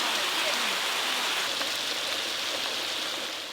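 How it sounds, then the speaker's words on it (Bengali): Rain falls during outdoor cooking, making a steady close hiss of drops pattering on surfaces that keeps an even loudness throughout. "রান্না করতে করতে বৃষ্টি চলে এলো"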